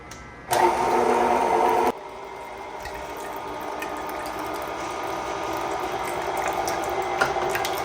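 Juicing machine separating autumn olive juice from seeds and skins, a loud close motor whine that starts abruptly, then settles into a steadier lower grinding hum that continues to the end.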